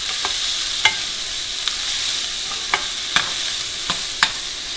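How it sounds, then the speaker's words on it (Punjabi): Onions fry lightly in a pan for aloo bhindi, a steady bright sizzle with periodic sharp scrapes and taps of a spatula stirring them, no voices. "ਪਿਆਜ਼ ਅਸੀਂ ਥੋੜ੍ਹੇ ਹੀ ਕਰਨੇ ਸੀ ਰੋਸਟ, ਕਿਉਂਕਿ ਬਰਾਊਨ ਨਹੀਂ ਕਰਨੇ।"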